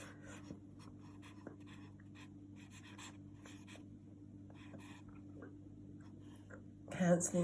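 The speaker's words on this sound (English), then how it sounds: "let's write that down" A pen scratches and taps across paper in short, uneven strokes, close and quiet, with a steady low hum beneath and a brief voice near the end.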